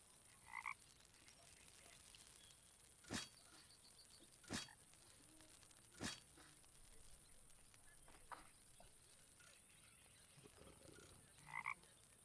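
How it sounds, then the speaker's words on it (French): Frog croaks from a video game set in a forest survival map, a few sharp separate calls spaced a couple of seconds apart over a steady high-pitched ambient hiss, with no talk. "Regardez la nouvelle grenouille."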